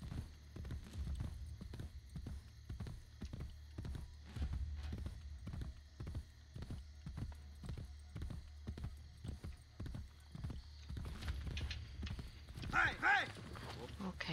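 Horse hooves clip-clop at a steady gallop in the video game Assassin's Creed Brotherhood, a brisk, even rhythm of quiet thuds running throughout, with a brief whinny-like burst near the end and a voice talking over it.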